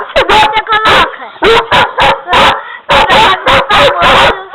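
A dog barks in rapid, angry bursts, loud and close, with yelps and whines between the barks in an uneven rhythm.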